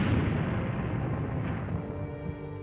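A large explosion of a ship's magazine holding ten tons of gunpowder, set off by a lighted candle. A sustained, loud, low rumbling roar fills the whole stretch and slowly eases without dying away.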